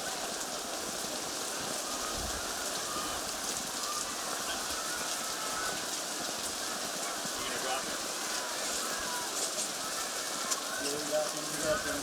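Heavy rain pours onto an outdoor ultimate frisbee field during a women's pro championship final, a steady, dense hiss that runs unbroken throughout with faint voices beneath it.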